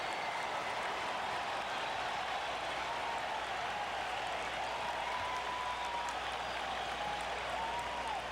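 A large ballpark crowd at Fenway Park cheers and applauds after a double, with steady, distant-sounding clapping and roaring that holds a dense, even level the whole time.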